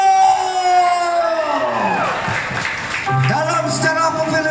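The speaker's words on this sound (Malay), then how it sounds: "tepukan untuk, jangan salah sebut, Syafiq Yusof." An audience at a Malaysian film cast introduction for Misteri Dilaila breaks into cheering, whoops and clapping, a lively crowd roar with shouted voices rising and falling across the whole stretch.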